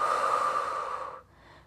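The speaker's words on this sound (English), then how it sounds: "Breathing deeply." Deep breathing during a pilates stretch, a long, steady close-up breath lasting over a second before easing off into a quieter, softer exhale.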